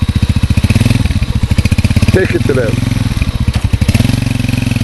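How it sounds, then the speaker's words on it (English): A motorcycle engine thumps loudly and rhythmically close by as the rider sets off, its steady pulsing beat running throughout while someone speaks over it. "Wani, riding his motorcycle"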